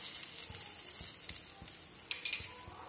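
Faint, steady sizzle from a breakfast item on a lightly buttered tawa, with soft crackling and a few small spits toward the end, no voices.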